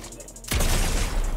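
A loud burst of video game gunfire erupts suddenly after a quiet moment, a dense blast filling the rest of the clip.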